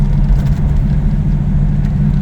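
A 1987 Toyota Hilux pickup truck's engine rumbles low and steady while driving, a continuous close drone with no pauses.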